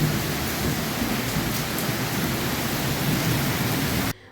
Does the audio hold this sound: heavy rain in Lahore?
yes